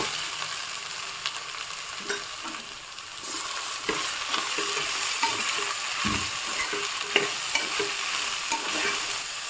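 Mushrooms sizzle in a hot pan with mint and coriander for a mushroom pulao. Steady frying hiss is broken by repeated scraping stirs of a spatula, with no voices.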